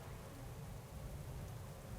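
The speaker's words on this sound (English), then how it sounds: "So we've got some rain clouds coming in right now." Steady, even rainfall in a World of Warcraft panda area, a continuous soft hiss of rain without breaks or voices.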